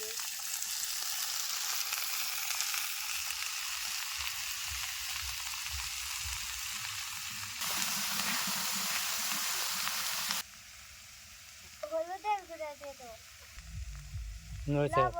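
Sliced bitter gourd (karela) sizzles in about two hundred grams of hot oil, giving a steady, bright frying hiss that later drops quieter. A voice speaks briefly near the end.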